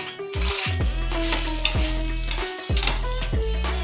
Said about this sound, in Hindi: इस साइड में मैंने थोड़ा सा ऑयल डाल दिया।